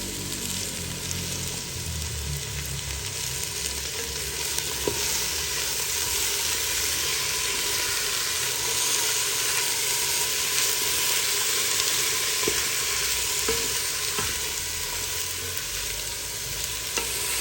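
Continuous sizzle of vegetables and peas frying in a pan, with occasional scrapes and knocks of stirring, steady and close, no voices.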